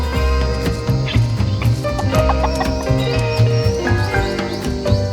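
Chickens cluck steadily and loudly at close range alongside lemurs, a busy layered run of clucks and short calls lasting about five seconds with no talking.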